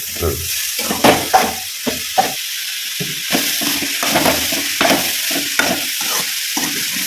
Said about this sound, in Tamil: இப்போ அது பொடியை சேர்த்து நல்லா வறுத்துக்கணும்.